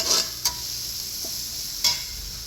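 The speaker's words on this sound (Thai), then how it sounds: "กุ้งเราไม่ลวกนะวันนี้เราผัดเขาเลย" Shrimp stir-fried in a pan sizzle steadily, with a couple of quick scraping stirs of the utensil against the pan cutting through the frying hiss.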